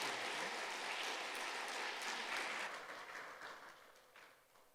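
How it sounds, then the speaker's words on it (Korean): A church congregation at a Sunday service breaks into warm, full applause that holds for a few seconds, then gradually thins and fades away. "박수 한번 쳐주세요."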